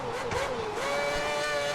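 Formula 1 race car in F1 2010 on the Korea circuit during practice, its engine whining steadily and shifting pitch as it drives, loud and close throughout with no talk.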